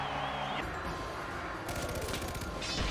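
Gunfire in Far Cry 4's Shanat Arena, a rapid rattling volley cutting in midway over a busy bed of game music and effects, loud and close.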